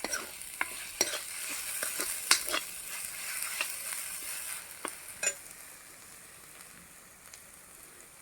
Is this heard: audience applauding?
no